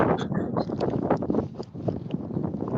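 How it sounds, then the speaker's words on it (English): Steady wind buffeting a microphone, a rough rumbling roar that fills the whole clip with gusty fluctuations and no clear speech. "Sorry for the wind. It's windy out there."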